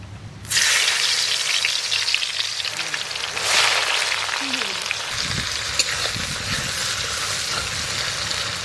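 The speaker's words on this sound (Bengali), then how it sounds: "তারপরে আমি ডিম আলু সব একসঙ্গে ভেজে নেব, তার জন্য দিয়ে দেবো সর্ষের তেল" Eggs and potatoes fry together in mustard oil, a loud, steady sizzle that bursts in as they hit the pan and keeps crackling throughout, with occasional stirring and faint voices nearby.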